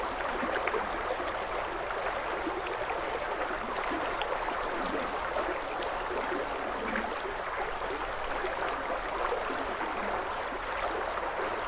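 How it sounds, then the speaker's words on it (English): Running water of a brook near Auburn, California rushes in a constant, even hiss and babble, close by and unbroken, with no voices over it. "I put the camera here by the brook where I am so that you could hear the running water."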